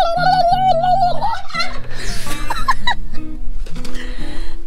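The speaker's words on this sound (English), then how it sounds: "oh, the chickens are right there" Chickens cluck and squawk close by, a busy run of clucks and higher cries with a rooster-like call, no talking.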